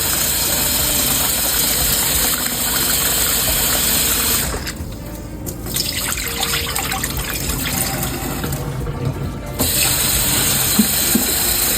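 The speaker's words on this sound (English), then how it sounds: "you just want to wash the rice" Tap water running steadily into a bowl while rice is being washed, a loud continuous splashing fill that dips briefly midway, with no talk.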